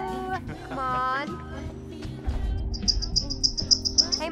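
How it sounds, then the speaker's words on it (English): Short repeated high chirps from a bird in the video game Until Dawn, a rapid run of bright tweets in the second half, over game sounds and a talking player. "There's a bird."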